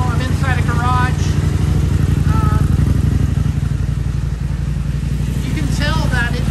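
A 2021 KTM 890 Rally motorcycle fitted with a Rottweiler performance intake idles inside a garage, a loud, steady low engine drone with a regular pulsing beat running through the whole stretch.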